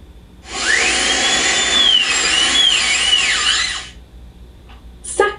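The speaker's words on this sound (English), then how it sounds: "Drill." A dental drill whines steadily for a few seconds, its high pitch rising and wavering, then cuts off, followed by a couple of brief clicks.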